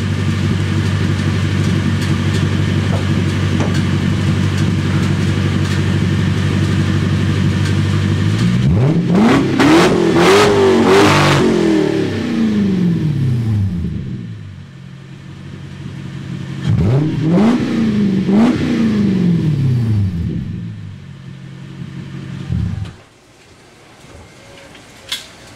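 A Lexus SC400 with its exhaust deleted idles loudly and steadily, then revs up sharply twice, each rev climbing and falling back, before the engine settles down and cuts off near the end.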